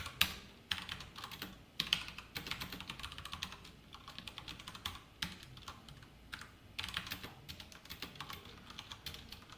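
Computer keyboard typing C code during a programming lesson, a steady run of close, crisp key clicks with irregular bursts and short pauses, no speech.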